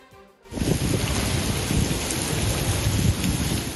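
Heavy rain pours down in Karachi, a dense steady roar that begins abruptly after a brief quiet moment and holds loud and close, with low rumbling weight beneath the hiss.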